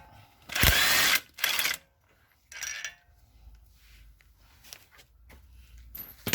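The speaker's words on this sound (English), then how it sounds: "what we first need to do is take out this center bolt" A power tool spins out the 27 mm six-point center bolt of a VW Passat 3C2 V6 3.2 FSI drive shaft in two loud bursts, then a shorter one, followed by quiet clicks and faint handling noises.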